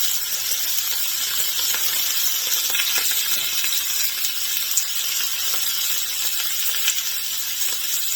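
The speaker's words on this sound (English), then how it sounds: "Just want to get a good sear on all sides." Birria burger meat searing in a hot pan on a stovetop gives a steady, dense sizzle with hissing steam. It stays constant and close throughout, broken only by a few faint clicks.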